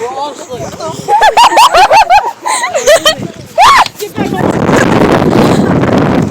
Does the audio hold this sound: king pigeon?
no